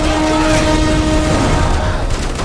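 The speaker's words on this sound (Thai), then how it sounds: "มันปาระเบิดนะ หลบก่อน" Grenade blast in the Call of Duty Modern Warfare 3 video game, a loud booming rumble with layered gunfire crackle, sustained and dense across the moment.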